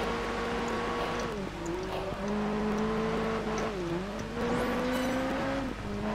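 Several race cars roar through a Project Gotham Racing 4 race, one engine droning steadily near and loud with pitch dips at shifts and braking, a Mitsubishi among the field, faint tire noise and passing cars behind.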